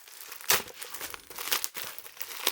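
Plastic packaging around a NEEWER articulating magic arm being unwrapped: close, crisp crinkling and rustling with a few sharper tearing bursts, fairly quiet and continuous over a couple of seconds.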